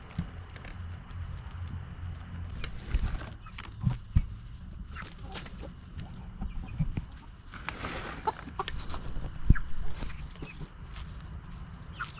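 Several Silkie chickens in an outdoor flock cluck softly and intermittently, scattered low calls over steady background rustle with a few sharper peaks, no talking.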